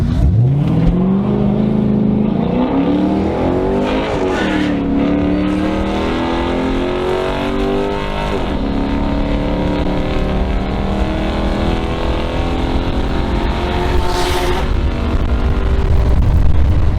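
A Dodge SRT car in track mode accelerates hard nearby, its engine rising through the gears with a loud, sustained roar and a short upshift dip, no voices present.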